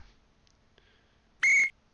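A referee's whistle blows once in an Action PC Basketball game of a 1970-71 NBA matchup, Detroit at Boston: a single sharp, loud, steady shrill blast of about a quarter second over a quiet background.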